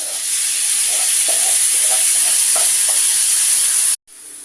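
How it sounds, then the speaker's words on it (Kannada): Garlic, onion and tomato fry in a hot pan with a constant loud hiss and sizzle, a few faint stirring clatters underneath, then a brief cut near the end. "ಬೆಳ್ಳುಳ್ಳಿ ಈರುಳ್ಳಿ ಟೊಮೊಟೊ ಹಾಕ್ತಾ ಇದ್ದೀವಿ"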